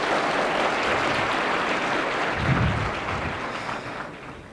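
A large audience claps dense and loud at the opening of a new dormitory at Nairobi School, welcoming a Cabinet Secretary, the applause tapering off slightly toward the end.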